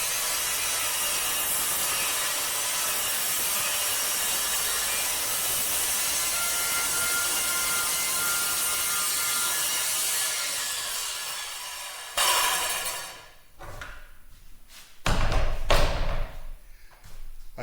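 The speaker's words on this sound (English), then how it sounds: "I'll rip a taper in it, and then I'll cut the notch for the shiplap" A long steady rip cut along a tapered line in a 1x12 board, a continuous loud saw whine that ends abruptly, followed by a few clunks and short knocks as the wood is handled.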